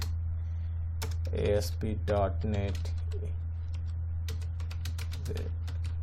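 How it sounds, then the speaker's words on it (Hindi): Dummy text typed on a computer keyboard while building an ASP.NET AJAX panel: a run of quick, light key clicks over a steady low hum, with someone talking partway through. "मैं यहाँ पर कुछ डमी टेक्स्ट टाइप कर देता हूँ"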